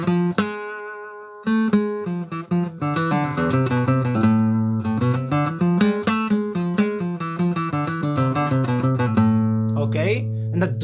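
A harmonic minor scale, with flat third, flat sixth and raised seventh, is played note by note on a melodic instrument, the clear sustained tones stepping up and back down steadily without any talk.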